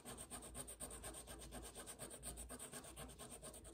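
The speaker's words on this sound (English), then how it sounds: "So I'm gonna rub over it with a popsicle stick." A popsicle stick rubs over crayon on paper at a table, giving a steady, close scraping rasp in quick repeated strokes that runs unbroken throughout.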